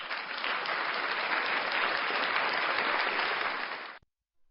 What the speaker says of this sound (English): We're going to give Candace Owens a round of applause.